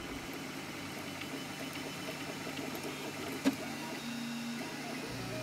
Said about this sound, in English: I send the program off to the 3D printer and it starts building up the part one layer at a time.